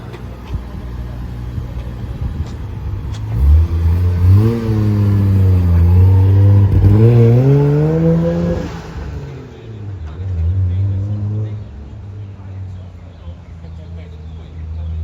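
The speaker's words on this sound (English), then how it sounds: "This is my new right-hand drive, 1JZ swapped Toyota HILUX." A right-hand-drive Toyota Hilux with a swapped 1JZ engine revs up loudly and nearby, climbing in pitch across several long pulls before dropping back to a rough idle.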